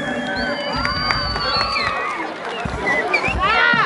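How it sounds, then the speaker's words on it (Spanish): Spectators at a jaripeo rodeo in Rancho Viejo, San Miguel de Allende, Guanajuato, cheer and shout steadily in a loud, close crowd, with whistles rising toward the end and an announcer heard over them. "El aplauso para la número 6."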